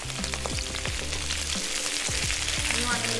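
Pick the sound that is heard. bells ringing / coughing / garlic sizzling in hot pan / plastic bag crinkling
garlic sizzling in hot pan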